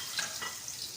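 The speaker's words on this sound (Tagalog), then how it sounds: "Gigisa na natin yung bawang guys." Garlic sautéing in a pan, a steady close sizzle with a light stir, faint and continuous for a moment.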